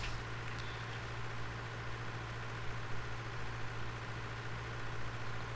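Steady idling tractor engine in the Farming Simulator 2013 video game, a continuous low drone holding at an even level throughout with no talk.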